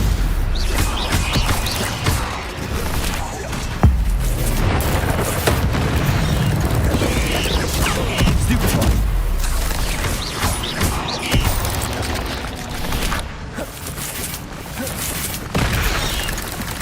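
Spell-casting effects from a Harry Potter video game, Incendio and Stupefy among them: a dense, continuous barrage of booming blasts, crackling bursts and crashes, loud and close, with sharper impacts punctuating the rumble throughout.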